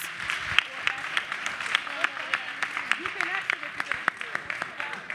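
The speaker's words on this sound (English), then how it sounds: "Let's everybody give him a round of applause and be gracious." Audience at the National Action Network Convention applauding Secretary Mayorkas, a steady spread of clapping with sharper individual claps over a busy crowd murmur, with voices talking through it.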